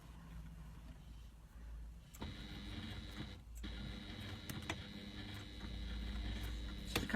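A sewing machine stitches fabric with a quiet, steady mechanical whir and faint rapid ticking, starting abruptly after a hush and running on close by, with a brief dip partway through.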